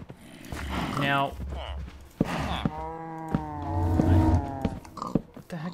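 Cow mooing in the game Minecraft, with several drawn-out low moos over a few seconds mixed with a man's speech.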